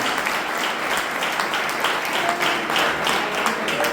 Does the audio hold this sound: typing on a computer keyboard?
no